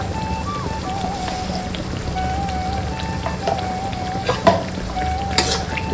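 Prawns fry with masala in a pan, giving a steady, dense sizzle throughout, with a few louder crackles and spatula knocks toward the end.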